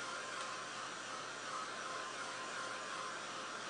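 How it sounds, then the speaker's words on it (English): A heat tool blows a steady, unbroken roaring whoosh of hot air over a painted canvas, loud and close for the whole stretch, with no voices. "I used the heat tool for a while, and I did get most of the area dry"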